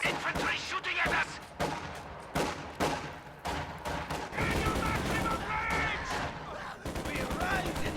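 Rapid gunfire from infantry in a real-time strategy war game, sharp repeated shots and machine-gun bursts in quick succession, with battle noise and game voices underneath.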